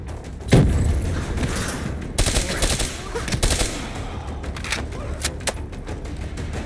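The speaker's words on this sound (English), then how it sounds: "Incoming grenade!" A grenade blast goes off with a loud boom early on, followed by bursts of gunfire and machine-gun fire in the futuristic shooter Call of Duty: Black Ops 3, the shots crackling repeatedly throughout a busy combat scene.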